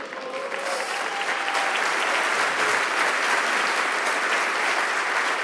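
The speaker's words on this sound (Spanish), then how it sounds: "Dale ese aplauso con honra" A church congregation applauds loudly during a sermon, steady dense clapping filling the space with a faint cheer or voice rising briefly above it, sustained throughout.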